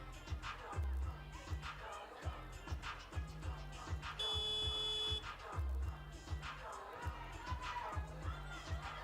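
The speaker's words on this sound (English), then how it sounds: "I'm not sure why that buzzer went off" A game clock buzzer sounds once in a basketball arena during a women's FIBA 3x3 game, a steady tone of about a second rising over crowd noise and commentary.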